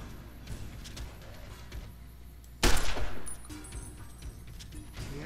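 Gunfire in the video game Fallout New Vegas breaks out as a sharp burst of shots over a steady game background hum, with fainter shots continuing afterward.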